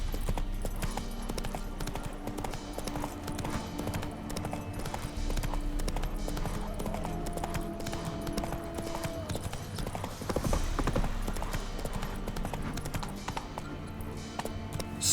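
Roach, the horse in the video game The Witcher 3: Wild Hunt, trots along with a steady, close clip-clop of hooves over a busy game soundscape, with faint music or ambience beneath.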